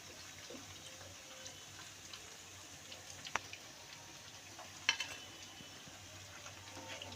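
Mung dal puli dumplings fry in oil, giving a faint, steady sizzle with a few small crackles and pops scattered through.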